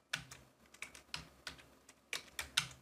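Someone types on a computer keyboard, about a dozen crisp, close key clicks in an uneven rhythm, with no talking.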